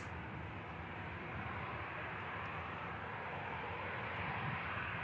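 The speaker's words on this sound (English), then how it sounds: "And the ATR for Belfast is next, operated by Emerald Airlines." An Emerald Airlines ATR turboprop departs Manchester Airport for Belfast, its engines giving a loud, steady broadband roar that holds evenly throughout with no talking.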